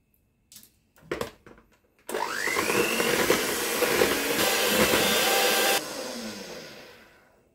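An electric mixer whipping egg whites with sugar and a pinch of salt to stiff peaks, starting after a few brief knocks and then droning loudly and steadily for several seconds before its pitch drops and it winds down.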